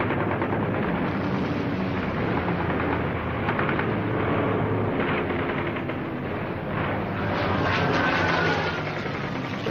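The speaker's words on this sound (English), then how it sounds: "a big melee with 40 or 50 airplanes just going all directions" World War II Hellcat fighter planes clash in a large dogfight over the Pacific, a dense, continuous roar of engines mixed with rattling bursts of gunfire that fill the whole stretch without pause.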